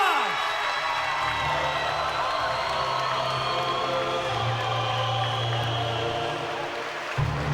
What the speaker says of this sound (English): Please keep your applause going for his opponent, Murtagh.